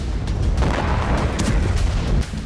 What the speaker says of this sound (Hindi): हमले के दौरान तेज धमाका हुआ और कई फीट ऊंची आग की लपटें उठने लगी।